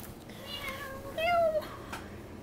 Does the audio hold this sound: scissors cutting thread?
no